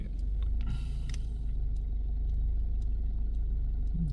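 A Mazda 3 engine idles at low RPM with a low-speed idle fault, a steady low rumble throughout, with a few faint clicks and a brief higher-pitched hiss near the start.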